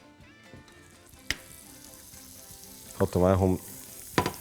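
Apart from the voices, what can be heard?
oil sizzling in a pan for frying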